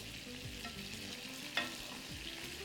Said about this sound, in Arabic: اقلب تقليبة واسيبه يكمل سواه